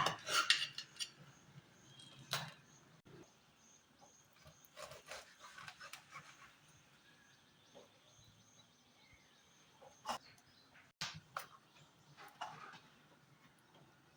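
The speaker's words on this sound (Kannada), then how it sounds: "ಇದನ್ನು ಕಟ್ ಮಾಡಿ ತಗೊಳ್ಳುವ" A knife cuts steamed pathrode, a leaf-based dish, into small pieces with scattered clinks and scrapes against a plate or vessel, plus quieter handling between cuts; no one speaks.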